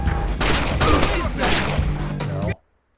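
Gunfire in Splinter Cell, aimed at shooting out a light: a dense run of close shots and clattering impacts that stops abruptly into silence after about two and a half seconds.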